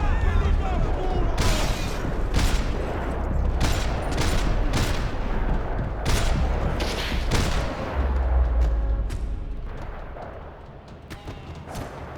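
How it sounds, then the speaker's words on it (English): Gunfire rattles through a parking lot in the shooter game Max Payne 3, with repeated sharp bursts and volleys cracking out over a rumbling low background, some shots near and loud, others trailing off, with a voice speaking briefly amid the fire. "Another parking lot rattling with gunfire."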